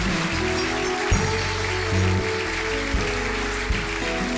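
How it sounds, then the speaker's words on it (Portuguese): A church congregation claps during a worship service over a loud sustained musical drone, the clapping blending into a rushing texture with a few sharper accents. "Vamos aplaudir nosso Deus."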